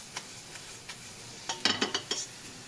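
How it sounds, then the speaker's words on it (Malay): Onions are stirred in a frying pan over high heat after caramel, baking soda, butter and salt go in, with a soft sizzle under scattered scraping and clinking taps of the utensil, the knocks bunching into a quick run near the end. "kacau je bawang ni"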